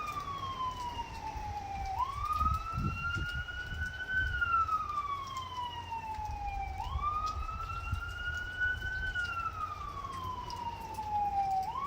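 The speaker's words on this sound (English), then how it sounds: "That's the second ambulance I seen." An ambulance siren wails in slow repeating rising and falling sweeps during Hurricane Ian in Lakeland, steady and moderately distant over low rumbling wind and traffic noise, with no talk.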